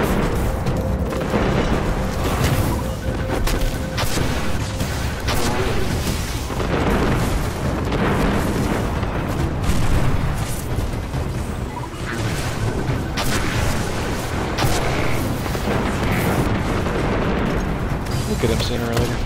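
Heavy weapons fire and explosions in the Destiny video game boom continuously in a dense, loud barrage with a person talking over it.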